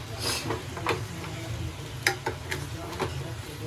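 Crab masala for crab sukka is sautéed and stirred in a pan over raised heat: a soft steady sizzle with several sharp scrapes and taps of the spoon against the pan.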